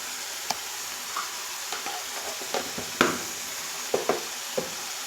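Ginger-garlic paste goes into a frying chana dal masala curry with cooked tomato, giving a soft, steady sizzle marked by sharp scraping clicks of a spoon against the pan.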